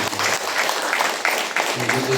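An audience at a large indoor religious gathering in Pune claps steadily throughout, with voices talking over the applause.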